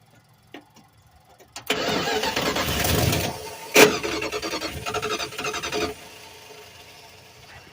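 A 1986 Dodge W150 engine cranks briefly, then fires and catches with a loud burst, revving and briefly squealing before settling to a quieter idle.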